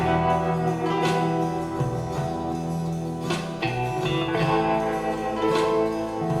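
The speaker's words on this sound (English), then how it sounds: "Very much my classic twangy and bendy guitars. Bass, drums, 12 string." Original demo of a band track with twangy, bendy electric guitars and 12-string guitar over bass and drums, playing continuously and fairly loud with steady drum hits and sustained chords.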